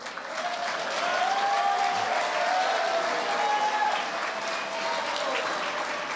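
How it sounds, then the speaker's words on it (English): A graduation ceremony audience claps steadily and warmly through a large hall, with a few sustained voices rising over the dense applause, loud and even from start to finish. "Clap even harder if you agree with me."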